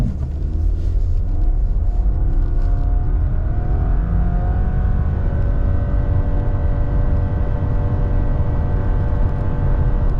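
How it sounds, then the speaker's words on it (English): A 2023 Subaru Crosstrek Limited launches from a brake rev and accelerates hard from 0 to 60 in sport mode with traction control off, its engine a loud, steady rumbling drone throughout with a rising tone and no talking. "0 to 60, we are in sport mode. Traction control is turned off. We're gonna do a little bit of a brake rev and see what it can do."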